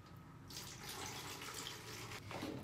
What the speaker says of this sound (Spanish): Y le voy a poner un vasito de agua para diluirla.